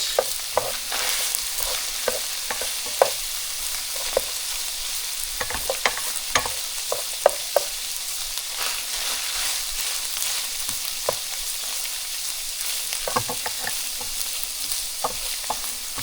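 Onion sizzles steadily in a hot pan for beef burritos while a utensil scrapes and stirs it in irregular clicks and scrapes, close and continuous.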